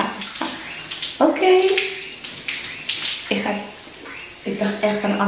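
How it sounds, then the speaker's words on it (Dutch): Shower water runs and splashes in a bathroom, a steady hiss of spray broken by shifting splashes, with someone speaking briefly over it. "Oh, het wordt warm."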